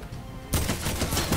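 Gunfire in the Fortnite video game: after a low hum, a sudden burst of rapid automatic shots rattles on steadily, moderately loud and close, with no talk over it.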